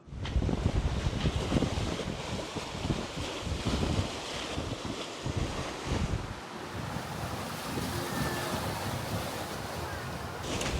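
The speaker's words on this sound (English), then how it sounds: "This is classic South Pacific kind of sailing. A little bit of a swell coming in from a low pressure system down south." Ocean swell and strong wind roar steadily aboard a sailboat in the South Pacific, the swell rolling in from a low pressure system to the south; a dense, continuous rush of surf and wind buffeting the microphone, with no talk.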